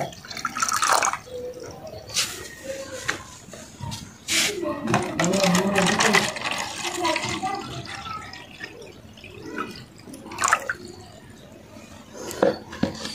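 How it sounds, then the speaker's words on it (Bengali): Water is poured into the two containers inside an egg incubator machine, giving intermittent splashing and trickling bursts close by, with a voice speaking in between. "দুইটা কোট্টা আছে, কোট্টাতে পানি দিয়ে দিলাম"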